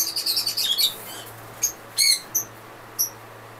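White-faced pied birds call in a run of rapid high chirps, followed by a few separate sharp calls with pauses between them, close and clear against a quiet low hum.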